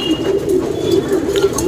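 Chitte Buri pigeon, a two-year-old male with a broad chest and medium length, cooing steadily and close by in a continuous low rolling murmur, with a faint higher chirp near the end.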